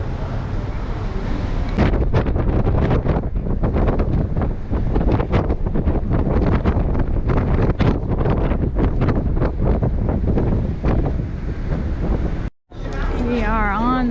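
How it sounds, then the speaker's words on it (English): Strong gusty wind in St. Thomas, Virgin Islands, buffets the microphone with loud, rumbling roars for most of the clip, briefly cutting out before a voice is heard near the end. "This is how windy it is here today in St. Thomas."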